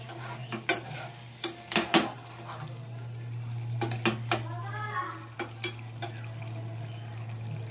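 A utensil stirs a pan of puti fish bati chorchori, with sharp metallic scrapes and clinks in irregular bursts over a steady low simmering hum and a soft sizzle.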